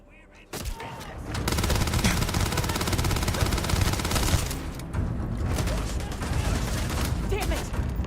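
Sustained automatic gunfire in the space game Starfield, dense rapid bursts running almost unbroken after a sharp opening shot, loud and close, with game voices mixed in.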